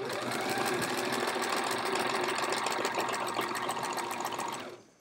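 A sewing machine stitches binding onto a hedgehog wall-hanging quilt, running in a steady, close, continuous whir for about four and a half seconds before stopping abruptly.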